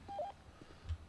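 Short tones of a phone keypad being dialed in a role-play video game, a few quick beeps close up with a quiet background.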